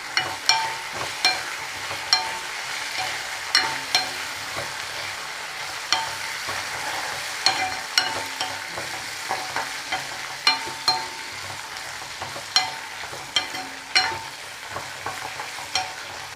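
Okra sautés in a pan with a soft, continuous sizzle, while a utensil scrapes and taps against the pan in repeated stirring strokes every second or so, close and without speech.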